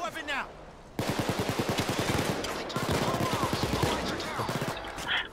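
Rapid bursts of automatic gunfire from the video game Payday 2 clatter in fast, repeated volleys, fairly loud and continuous for several seconds, with brief gaps and occasional speech under them.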